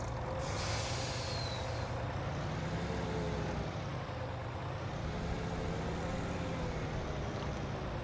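A truck backs a trailer in, its engine droning low and steady throughout, with a brief hiss of air near the start.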